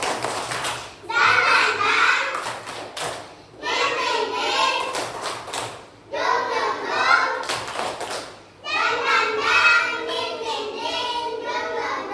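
A class of children chant loudly in unison, punctuated by bursts of sharp rhythmic clapping between the chanted phrases.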